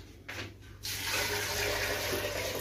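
Water pours steadily into a cooking pot of beans being prepared for bissara, a brief close gushing stream that starts after a few faint splashes.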